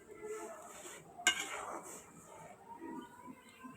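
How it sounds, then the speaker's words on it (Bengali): Noodles are stirred in a pot of boiling water, a spoon knocking once against the metal rim, with soft scraping and bubbling around it and a dog barking faintly in the background. "একটু নেড়ে দিতে হবে।"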